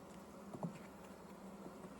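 Honey bees buzzing inside an open beehive during a fall inspection, a faint steady drone of many insects with individual bees passing close, no talk.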